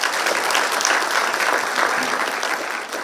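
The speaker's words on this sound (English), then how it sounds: "Can we give him a clap?" An audience at an International Women's Day event gives a round of applause, a steady, fairly close patter of many hands clapping for about three seconds, with no speech.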